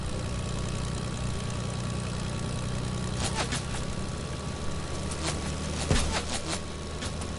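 An engine that has just been restarted runs at a steady low idle, a continuous rumbling hum with a few brief sharp clicks and knocks breaking in near the end.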